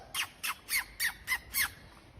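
A bird that has just snatched an AirPod from a girl's ear squawks six times in a steady rhythm, each call a harsh, nearby burst, with no talk over it.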